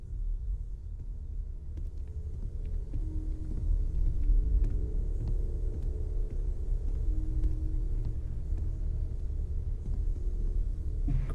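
A heavy vehicle engine rumbling outside, a steady low drone that swells slightly and holds, fairly loud and muffled, heard alone without talking.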